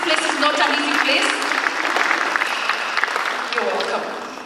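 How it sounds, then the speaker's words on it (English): Audience applause at a eulogy gathering, a steady dense clapping that stays loud for several seconds and then begins to fade near the end, with no voices standing out over it. "let's clap for her and encourage her as it comes"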